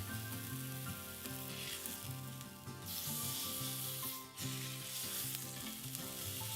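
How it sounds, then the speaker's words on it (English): Steak searing in canola oil in a hot pan, a steady close sizzle with brief rubbing scrapes, under a low tonal background hum. "Place the steak in the center of the pan."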